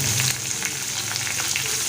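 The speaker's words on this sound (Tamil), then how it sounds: "நல்லா கோல்டன் ப்ரௌன் கலர் வதங்கி வரட்டும்." Sliced onions, cloves and green chillies fry in a pan for chilli chapathi, a close, continuous crackling sizzle with light stirring and no voices.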